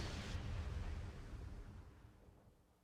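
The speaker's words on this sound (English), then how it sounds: "Don't run away from that explosion." A boss explodes in the video game Metroid Prime 2: Echoes: a broad, rumbling blast that is loudest at the start and slowly fades away over a few seconds, with no voices.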